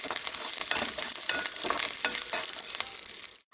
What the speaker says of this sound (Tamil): இப்போ பாருங்கள் சவுண்டு வர அளவுக்கு வறுத்து விட்டாச்சு